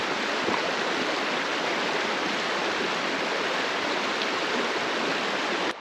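River rushing steadily near Soldier Lake, a dense, continuous roar of moving water that stays loud and unbroken throughout, with no voices.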